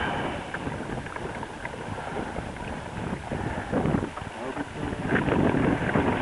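Wind picking up on a sailboat in Pine Island Sound with the mizzen sail up, a steady rushing buffet of wind against the microphone with water noise, swelling louder toward the end.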